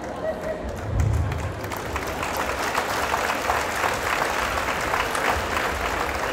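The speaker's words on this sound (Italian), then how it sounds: "prolunghiamo questo applauso con ancora più intensità" Audience applause at a sports academy's end-of-year performance, a dense, steady wash of many hands clapping that swells after the first second and holds loud throughout.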